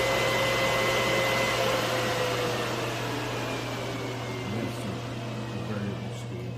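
Can-Am X3 turbo cabin heater fan blowing air in a steady, loud whoosh with a constant low hum, with a person talking over it.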